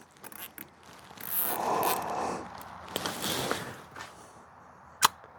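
Zip tie ratcheting tight around a glove wrapped on a Toyota Tundra power steering part, close rasping zips and creaky handling noises in a couple of pulls, ending in a sharp snap.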